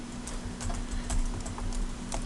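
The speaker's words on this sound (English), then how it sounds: "just hitting end on my keyboard to get to the end of the line" Computer keyboard keys tap in a quick, irregular patter close by, faint clicks over a low steady hum with no talking.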